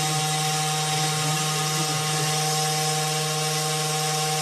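A 1610 desktop CNC router shuttles back and forth while cutting pinning trays, giving a steady close whine with a strong constant hum and broad motor hiss and no pauses.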